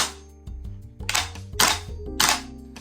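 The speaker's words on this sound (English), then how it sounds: "What you're hearing there is the bolt bouncing around a lot." Sharp mechanical snaps and rattles in quick irregular bursts, the metallic bolt of a VFC XM16E1 airsoft gas blowback rifle clacking back and forth, close and fairly quiet.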